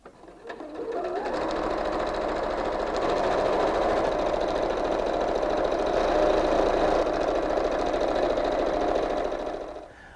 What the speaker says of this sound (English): So let's head over to the sewing machine.